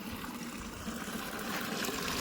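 Water poured from a bucket into a trough for buffaloes on a farm, a steady close splashing gush that grows slightly louder toward the end.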